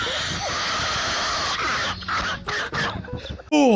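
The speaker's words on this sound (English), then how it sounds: "What the fuck is wrong with the dog?" A dog in a meme clip makes odd wheezing, whimpering and gasping noises, close and fairly loud, mixed with a person talking and a high yelp at the end.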